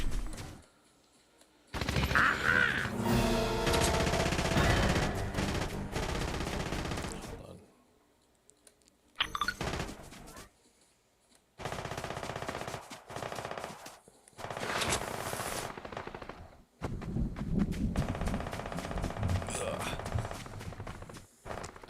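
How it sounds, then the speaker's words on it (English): Bursts of rapid automatic gunfire rattle in long sustained volleys with short gaps between them, loud and close, with game-like effects and no talking, in Fortnite on Nintendo Switch. "We got some gunfire this way."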